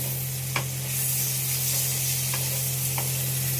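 Tomato and whole spices such as cumin, ginger, chilli and coriander frying for a curry in a pan, a steady soft sizzle with a few brief stirring scrapes and no talking.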